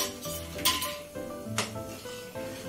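Chhena payesh is stirred in a metal pot, with a few distinct clanks and scrapes of a spoon against the pot spread across a couple of seconds, fairly quiet and close, with no voices.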